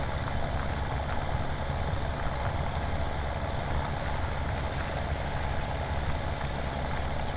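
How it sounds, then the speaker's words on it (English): A tractor engine drones steadily while plowing a field in Farming Simulator 17, a deep, throaty, continuous rumble with no breaks, heard alone without talk. "I love the throatiness of the tractors. They just sound so good"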